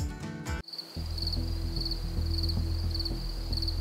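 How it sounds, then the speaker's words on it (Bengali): Crickets chirp at night around the 400-year-old Amadpur zamindar house in a village, a steady stream of pulsing chirps over a low drone, starting after a brief burst of other sound. "আছে শুধু ঝিঝি পোকার ডাক"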